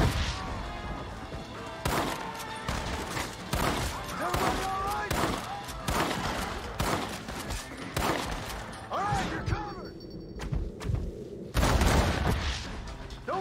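Rapid bursts of gunfire crack and boom in a Red Dead Redemption shootout, dense volleys of close, loud shots with brief lulls and a heavy final burst.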